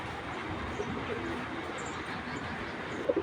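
A breeding pair of pigeons coos softly against a steady background hiss, with a couple of brief, slightly louder calls near the end.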